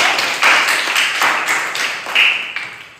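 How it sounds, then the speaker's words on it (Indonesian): Classroom applause for a student group after a class presentation, a dense wash of clapping from a room of pupils that swells and dips in waves, steady and fairly loud throughout with no voices over it. "tepuk tangan untuk kelompok JJ"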